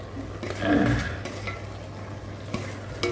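Brinjal and bean curry stirred in a pan, with soft scraping and sizzling, a few spoon knocks against the metal, and a low steady hiss throughout.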